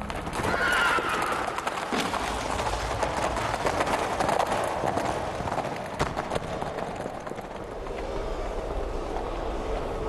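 A horse gallops with a steady, fast clip-clop of hooves and neighs loudly near the start, over continuous rushing background noise with no speech.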